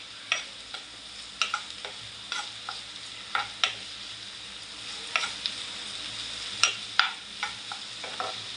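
Onions sautéing in a pan for dhaba-style egg bhurji, a steady soft sizzle punctuated by repeated sharp clicks of a spatula stirring against the pan, close and without talking.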